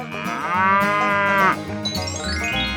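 A cow in a 3D animal slide game lets out one long, loud moo lasting about a second and a half, set against upbeat game music with a rising whistle-like effect afterward.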